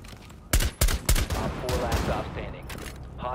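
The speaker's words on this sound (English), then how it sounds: "They're shooting their own team." Gunfire in a Rainbow Six multiplayer match: several loud, sharp shots in quick bursts over the first second, then trailing rattles under a lively background of game noise and a voice.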